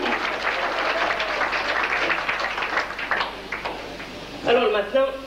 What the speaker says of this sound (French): Alors là, il faut l'applaudir.